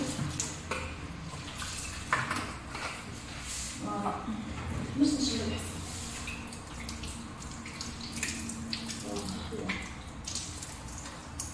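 Tap water runs steadily into a sink while soap is rinsed off, with splashing and clinks of dishes mixed in, and a voice talks over it now and then.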